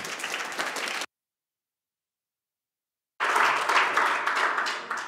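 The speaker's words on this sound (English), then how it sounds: "Please, a round of applause for Emily Jacocometti." Audience applause welcoming speaker Emily Jacometti at a Codam talk, a dense crowd clapping for about a second, then a gap of silence, then a louder second stretch of sustained clapping.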